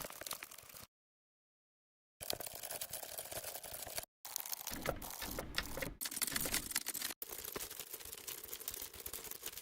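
A Foley sample of screws gives dense, bright clicking and rattling textures in short bursts, broken by abrupt silent cuts and choppy edited segments.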